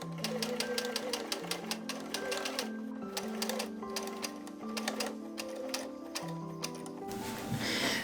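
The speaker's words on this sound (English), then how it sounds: "then sew with a sewing machine and the red thread that I did on the other side." A sewing machine stitches a corset with red thread in rapid, rhythmic bursts of clattering needle strokes, pausing briefly between runs, close and clear.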